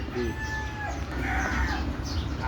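Native desi chickens cluck and murmur close by, a low continuous chatter with a few brief higher calls over a busy farmyard background.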